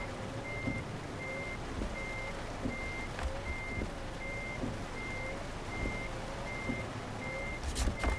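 In Euro Truck Simulator 2, a truck parking in reverse sounds a steady, evenly spaced series of reversing beeps over a constant low engine rumble, with a faint clunk near the end.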